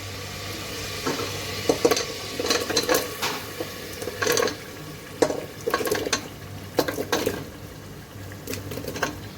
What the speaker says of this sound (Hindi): मटर ऐड करने के बाद इसमें मैं आलू ऐड कर दूँगी।